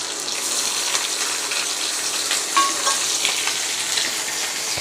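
Sliced bitter gourd fries in oil alongside a fish head, an even, moderate sizzle with scattered pops and light stirring clicks, steady from start to finish with no talking.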